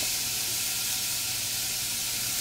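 Meat searing in a hot pan for stew, a steady broadband hiss and sizzle with no distinct stirs, constant and moderately quiet, no voices.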